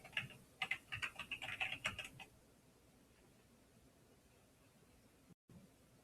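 Keys clatter on a computer keyboard as a password is typed during a Linux installation, a quick burst of close, crisp taps lasting about two seconds, then quiet hiss.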